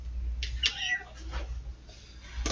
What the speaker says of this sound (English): Look, there's kittens.